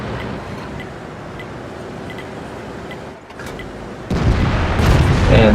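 In a tank video game, a gun shot strikes a Jagdpanther II tank destroyer: a quiet stretch of engine hum and faint clicks, a brief dip, then a loud, abrupt boom that swells into a sustained roaring rumble.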